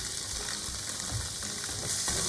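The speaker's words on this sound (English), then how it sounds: "Right now what we're doing with the onions are cooking" Onions sizzle and fry in a dry pan with no oil over medium heat, a steady broadband crackle with soft stirring bumps throughout, close and continuous with no talking.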